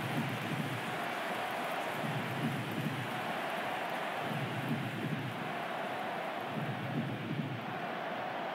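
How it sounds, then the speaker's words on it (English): Steady rain falling over a stadium before a North Carolina FC versus Houston Dash soccer match, a constant dense hiss with gentle low rumbling swells, even in level and without voices. "as predicted in the weather forecast, rain has been falling steadily"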